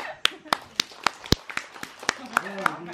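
Children at a school prize-giving for good students clap in a sparse, uneven patter of about a dozen sharp hand claps spread over three seconds, with voices chattering between them.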